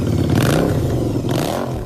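A custom-built Harley-Davidson V-Rod motorcycle made in Russia, its engine revving loudly and close by in two swelling bursts over a steady rumble, with no talking.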